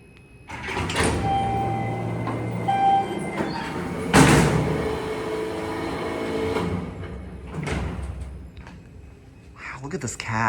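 The door of an Otis traction freight elevator at a university hall slides open with a long rumbling, rolling mechanical sound and a few clunks, heard fairly close while people talk over it.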